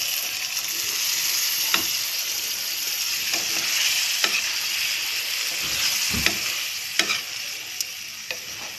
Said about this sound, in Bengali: এবারে মুগ কড়াই সিদ্ধটা আমি দিয়ে দেবো